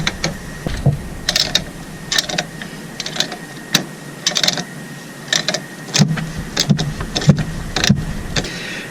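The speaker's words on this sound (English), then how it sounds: "as I get closer, I'm going to grab the pipe with another wrench and help keep it stationary" A ratchet wrench tightens a pipe fitting aboard a boat, clicking in short, loud bursts of quick pawl ticks separated by brief pauses, with a few duller knocks toward the end and no voices.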